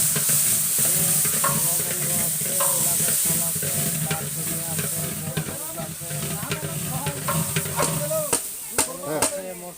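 Spice paste with ground cumin frying in a large pot of meat for a wedding feast, stirred with steady scraping and clanking over a continuous sizzle, with people talking underneath and a low hum throughout.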